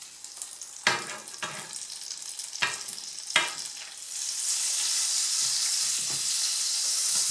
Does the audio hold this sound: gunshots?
no